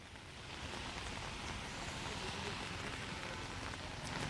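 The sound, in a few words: heavy rain falling in Jaipur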